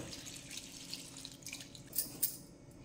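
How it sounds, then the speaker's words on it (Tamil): Water trickles and splashes into a pot of rose petals while making rose milk syrup; a soft, steady pour with a couple of brighter drips near the end. "இந்த அளவுக்கு தண்ணி ஊற்றணுனாக்க போதுங்க"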